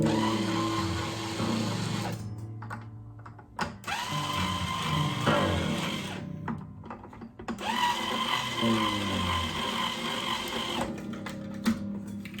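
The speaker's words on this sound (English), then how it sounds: "My trusty string winder here" A string winder loosens the strings on a Taylor 110e acoustic guitar, a steady whirring rattle in several long bursts separated by brief pauses, close up with no talking.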